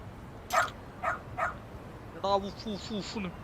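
A dog in the video game Lost Judgment gives three short barks in quick succession, then a run of higher yips and whimpers, fairly faint and close.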